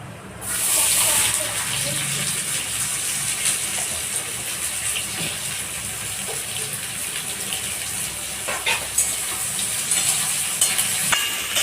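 Chopped onions fry in hot oil in a home kitchen pan, a steady broadband sizzle running throughout with occasional stirring clatter, close and moderately loud, no talking over it.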